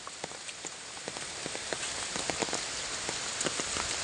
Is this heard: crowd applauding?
no